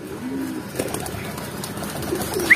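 A racing pigeon coos softly in short low bursts while being held in the hand, close and fairly quiet against faint background noise.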